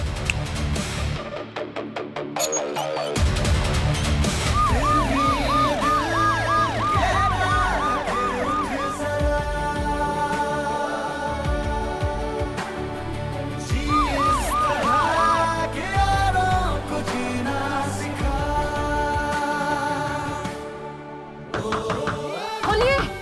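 An ambulance siren wails steadily and loudly, its rising and falling tone cycling continuously with traffic noise underneath.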